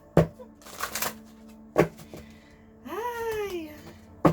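Oracle cards from the Magical Times deck being shuffled and drawn, with a few sharp card slaps and soft riffling near the microphone, and a voice talking between the handling sounds.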